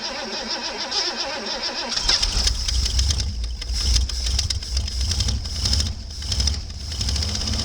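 A snow-packed Ford F-250 pickup truck engine with a rust-treated engine compartment cranks with a whirring starter, then catches and settles into a loud, steady low rumbling idle close by.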